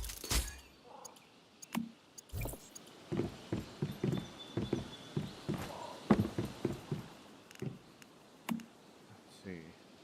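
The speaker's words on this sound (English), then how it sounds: "They really went and used the horse gallop for the running sounds" Hoof-like clip-clop footfalls from a video game, used for a character's running, patter in quick irregular bursts through the clip, close and fairly loud, with a brief vocal sound near the start.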